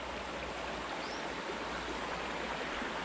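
A muddy mountain stream, swollen and turbid after a thunderstorm, rushes with a dense, steady broadband roar that stays even throughout, close by and loud, with no voices.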